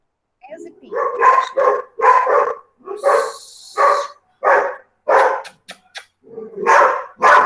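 A dog barks again and again in steady, evenly spaced bursts, close and loud, with a brief higher yelp mixed in.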